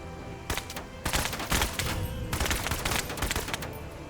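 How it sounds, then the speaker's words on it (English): Rapid gunfire in the video game Menace, heard as a dense run of close, loud rattling shots in several bursts with no talk over them. "I think I could just maybe shoot at them from here"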